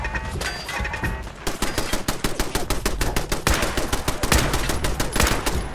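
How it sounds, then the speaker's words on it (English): An automated turret in Fallout 4 opens up with loud, rapid machine-gun fire, a dense stream of sharp shots that pauses briefly, then resumes for several seconds of continuous close bursts. "Watch it! That turret's live!"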